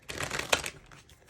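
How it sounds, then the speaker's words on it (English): A quick riffle of tarot cards being shuffled, a brief papery flutter with a sharper snap in the middle. "It's so hard to shuffle"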